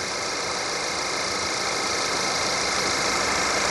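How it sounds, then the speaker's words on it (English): An Audi A4 engine idles steadily after new spark plugs and coil packs were fitted, a continuous even hum with a hiss, settling from a high idle, close and alone without voices. "We'll wait for the high idle to come down"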